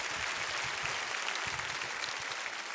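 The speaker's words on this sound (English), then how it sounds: "give yourself a hand clap for being here" An audience at a conference claps for itself, a steady wash of many hands across the whole stretch, loud and continuous with no talk over it.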